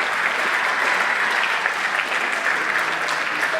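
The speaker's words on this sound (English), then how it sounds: "I think you all deserve a little round of applause for that." An audience at a high school spring sports awards ceremony gives a round of applause, a steady dense clapping that holds at a loud, even level throughout with no talk over it.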